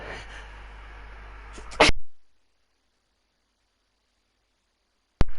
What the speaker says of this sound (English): I think I caught that sneeze